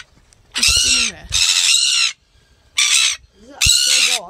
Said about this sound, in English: we've been wondering why the birds have been going so crazy